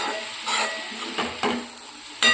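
Amaranth greens and peas frying in a pan, with soft sizzling broken by several short scraping stirs of a utensil against the metal, close and fairly quiet.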